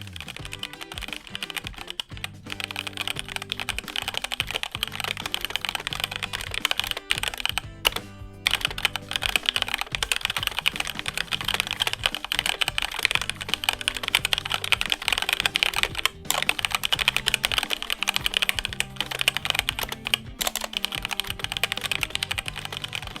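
Continuous fast typing on a HyperX Alloy Origins Core compact mechanical gaming keyboard, dense clicky keystrokes with a few brief pauses, close and steady throughout.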